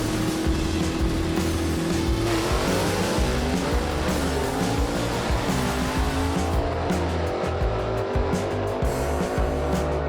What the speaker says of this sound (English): Randy Keefer drives by after a starting line advantage right there by Wilmot.